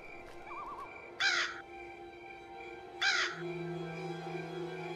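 A crow caws in the Granny 3 video game, two separate raspy bursts a couple of seconds apart, clear and near, over a steady low ambient hum with a faint warbling tone earlier on.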